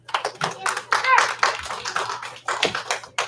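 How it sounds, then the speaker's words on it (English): A classroom of students claps for a classmate in short bursts of hand claps, close and fairly loud, with talking mixed in between the claps. "Give him 1 clap, 2 claps."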